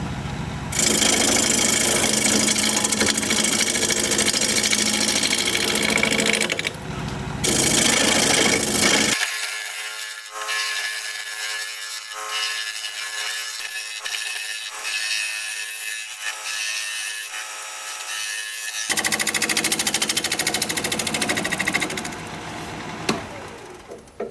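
A wood-turning lathe spins at about 800 rpm as a gouge rasps across the workpiece in long, loud scraping passes. The cutting stops midway and only the machine's quieter hum remains, then the scraping resumes.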